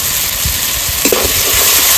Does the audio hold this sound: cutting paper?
no